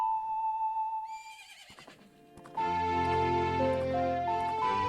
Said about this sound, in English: So we've relearned Epona's song